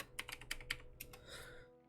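Keys clack on a computer keyboard in a brief burst of close, crisp taps at an uneven pace, fading into a soft hiss at the end.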